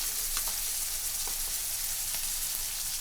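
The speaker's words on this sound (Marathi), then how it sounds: "कांदा लाल झाल्यानंतर मी टाकते ह्यात टमाटर टाकल्यानंतर थोडंसं मीठ टाकून घेते" Tomatoes frying in a pan with browned onion and garlic, salted as they cook, producing a continuous close sizzle with a few soft pops and no talking.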